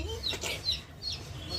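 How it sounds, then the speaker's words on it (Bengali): Young chicken chicks give a few thin, high cheeping peeps close by, brief and scattered over a low background murmur. "এই যে দেখেন আমার আম্মু 5টা মুরগির বাচ্চা নিয়েছিল।"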